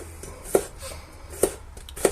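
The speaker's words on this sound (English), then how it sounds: "chopping the garlic up" A few sharp knife chops through garlic on a cutting board, spaced irregularly, close by with a quiet room behind.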